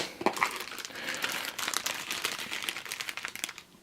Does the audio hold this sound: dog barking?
no